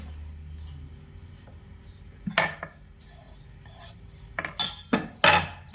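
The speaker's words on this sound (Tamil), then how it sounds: "நல்லா மிக்ஸ் பண்ணி விட்டுக்கோங்க" Ragi adai batter with red chillies, curry leaves and onion mixed in a bowl. A quiet stretch gives way to a few sharp clinks and scraping bursts, clustered more densely toward the end.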